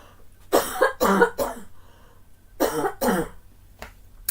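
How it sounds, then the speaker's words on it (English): Several separate coughs lingering after COVID, two in quick succession, a short pause, then two more and a faint last one, close and fairly loud in a quiet room. "Excuse me, I'm going to cough."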